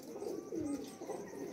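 Pigeons on a rooftop loft give soft, low repeated coos in a steady murmuring rhythm, close by and moderately quiet, with no voices.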